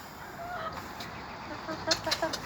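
Chickens clucking in short, scattered bursts over a steady outdoor background hum on a farm, moderately close.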